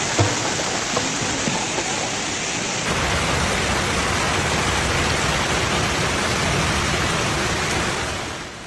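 Heavy rain and hail pour down during a storm in Denver, Colorado, a dense, steady roar of hiss that stays loud and unbroken throughout, with no voices.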